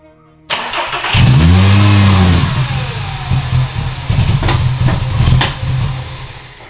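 A car engine turns over and settles into a steady, close idle, a low rumbling hum with light mechanical clatter running throughout.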